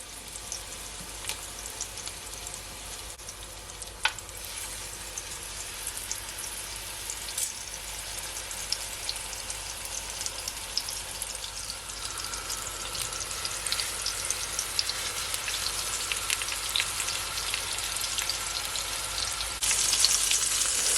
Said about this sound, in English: you just want to allow it to fry for at least 4 minutes on each side